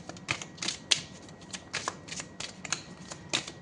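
Tarot cards being shuffled, a run of crisp, rapid riffling bursts close to the mic at low volume, with no speech.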